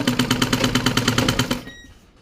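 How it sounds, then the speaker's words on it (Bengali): A sewing machine stitches fabric for ladies' ghoti pants, with a rapid, even mechanical chatter up close for about a second and a half before winding down to a stop. "সেলাই শুরু করব আমরা অন্তত চার ইঞ্চি সাড়ে তিন চার ইঞ্চি আমরা কুচি ছাড়া সেলাই দিব"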